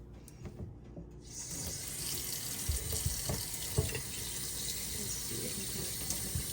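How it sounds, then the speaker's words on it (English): A makeup brush rinsed under running tap water in a sink, a steady hiss of flowing water starting after a brief quiet moment and continuing evenly, with faint handling knocks underneath. "So let's rinse it and see."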